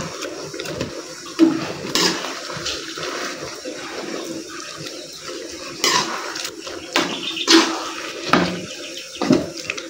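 Water splashes and trickles into a fermented rice (buro) mixture, with intermittent clinks and knocks of a utensil against the pot over a steady wet churn.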